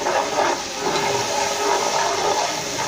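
Yakhni stock spooned into frying masala for beef nalli biryani, giving a steady broadband sizzle and hiss that holds evenly throughout without a break, close and fairly loud.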